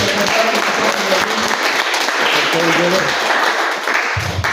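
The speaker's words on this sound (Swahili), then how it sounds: "Pigieni makofi mazuri." Congregation clapping in a church during a men's service sermon, a dense steady wash of applause lasting the whole moment, loud and close, with a few voices mixed in.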